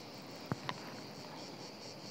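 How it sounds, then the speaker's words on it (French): Crickets chirp among pine trees at sunset on a very hot evening, a faint, steady high trill in the distance broken by a couple of soft clicks. "avec les grillons"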